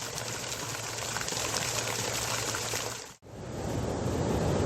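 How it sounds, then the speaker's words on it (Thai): Ocean waves wash steadily beside a seaside swimming pool at the Santhiya Tree resort on Koh Chang, a continuous broad rushing of water, moderately loud, with a brief gap partway through and no talking. "อันนี้ก็จะเป็นบรรยากาศสระว่ายน้ำติดทะเล ของโรงแรมสันทยาทีนะครับ"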